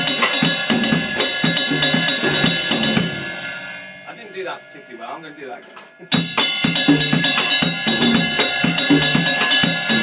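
A mambo rhythm on a drum kit: busy, driving hits and cymbals for a few seconds, a pause while someone talks briefly, then the groove starts again just as loud.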